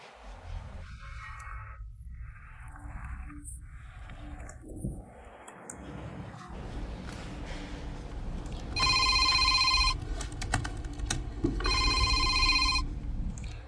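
A telephone rings in two clear electronic bursts, each lasting a few seconds, over a low background hum of a room, with no speech during the rings.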